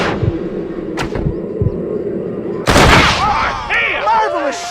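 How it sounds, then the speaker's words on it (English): In Red Dead Redemption, a sharp, loud gunshot cracks partway through, following quieter thuds and scuffles, and a ringing, bright tail trails after the blast. "Marvelous shot, dear boy."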